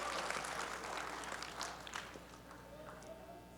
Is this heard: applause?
yes